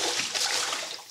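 Sesame seeds being washed in a bowl of fresh water, a faint, brief swish and splash of water being stirred, quiet and alone.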